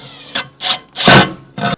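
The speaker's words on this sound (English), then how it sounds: "And we're just gonna drill our first one." A drill fitted with an extension bores into a wooden wall stud for a 240-volt level 2 EV charger box, giving four short, loud, rasping bursts separated by brief pauses.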